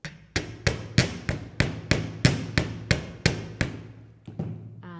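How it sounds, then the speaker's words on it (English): A hammer strikes a wire jewellery tip resting on a steel block, about a dozen sharp, ringing blows in a steady, even rhythm, close and clear, with no talk. "So we'll put it back on our steel block and hammer the tip here"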